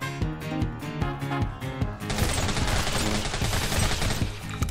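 Gunfire in the horror game Deathly Stillness, a dense, rapid burst of shots that starts partway through and keeps going, loud and close, after a stretch of quieter game sound.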